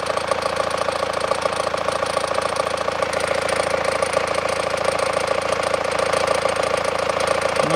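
A worn alternator pulley on a 2012 SsangYong Actyon 2.0 4WD engine makes a steady, rapid knocking rattle over the running engine's drone, close and unbroken throughout.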